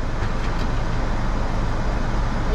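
Steady road traffic rumble in slow-moving traffic in Pigeon Forge, Tennessee, a continuous low engine and tire drone with no distinct passing vehicles and no voices.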